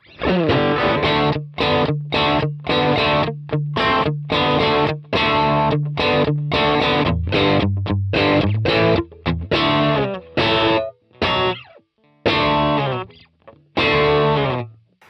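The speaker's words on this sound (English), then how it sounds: "if I switch on the overdrive instead of the compressor. Listen to the really, you know, classic Telecaster tone" A Telecaster-style electric guitar with overdrive plays choppy, rhythmic chords and riffs, crunchy and close, with short gaps between phrases.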